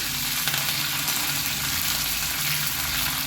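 Coriander and curry leaves frying in hot oil for a mint chivda, a steady dense sizzle and crackle, close and continuous with no talking.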